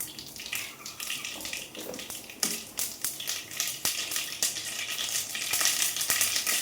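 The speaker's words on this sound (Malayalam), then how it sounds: "വെളിച്ചെണ്ണ നല്ലോണം ചൂടായിട്ടുണ്ട്. ഞാൻ ഒരു സ്പൂണ് കടുക് ഇട്ടു." Mustard seeds fry in hot coconut oil with a dense, steady sizzle and scattered sharp pops and crackles, growing slightly louder toward the end, with no voices.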